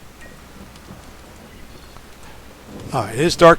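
Rain falls in the zombie survival video game Dying Light at night as a soft, steady patter in the background, while someone talks over it toward the end.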